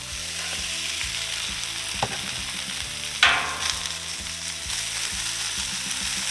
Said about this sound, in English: So we'll get the bacon on the griddle.